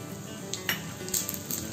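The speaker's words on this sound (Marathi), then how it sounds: "फोडणीसाठी तेल तापलंय। आता आपण याच्यात जिरे मोहरी घालू" Cumin and mustard seeds hit hot oil for tempering, making a steady close sizzle with scattered small pops and a faint clink of a utensil against the pan.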